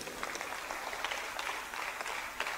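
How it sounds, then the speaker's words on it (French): A church congregation at a French-language reform seminar claps for the Lord, a continuous, fairly loud wash of many hands with scattered sharper claps standing out. "Applaudissez pour le Seigneur."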